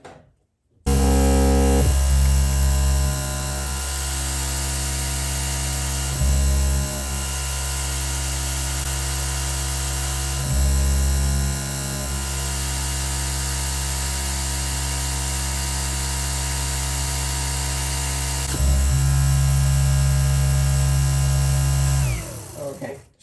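A Dyson V15 Detect cordless vacuum cleaner runs on eco mode with a steady, loud motor whine and hum, dipping briefly a few times as it keeps running.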